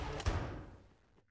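A single soft thud of a door opening in a VR Garry's Mod game, with a brief low impact followed by a fading whoosh, quiet and alone.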